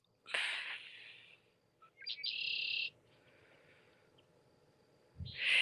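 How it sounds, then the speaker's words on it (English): A bird gives a loud, harsh call, then a second shrill call a moment later, with a third starting at the end over quiet outdoor background. "There's some kind of bird."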